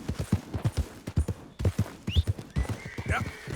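Horse hooves clip-clopping in the Red Dead Redemption 2 video game, a steady rhythmic patter of repeated hoof strikes with brief gaps, mixed with game sounds and occasional horse snorts or whinnies.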